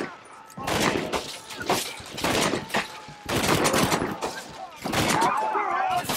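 Pistol shots ring out during a gunfight in the Western video game Red Dead Redemption. They come as loud, rapid bursts of cracking reports separated by brief pauses, mixed with game sounds and voices.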